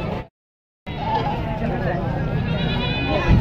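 Goat bleats rise out of a busy crowd at a livestock market in Machiwal after Eid, with steady babble and talk underneath and a short silent gap near the start.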